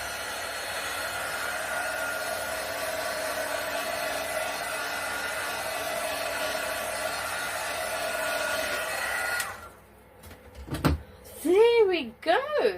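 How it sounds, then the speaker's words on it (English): A heat gun blows steadily on acrylic pour paint, a constant airy whoosh running close and loud before cutting off abruptly, followed by brief clicks and scraping noises. "So just hit that with a heat gun."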